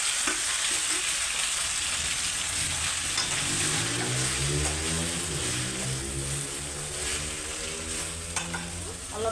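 Tomatoes with spices and chillies hit hot oil in a wok and fry with a loud, steady sizzle and crackle, with stirring and scraping sounds over it.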